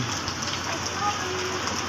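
Steady rain falls onto a street canal, a dense even hiss of drops on water that runs unbroken and fairly close throughout.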